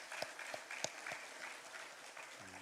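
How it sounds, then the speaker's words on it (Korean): A church congregation at a Sunday morning worship service applauds to encourage its volunteers, a soft, fairly distant patter of many hands with a few louder claps near the start, continuing evenly and fading slightly toward the end. "박수로 하면 좋겠습니다."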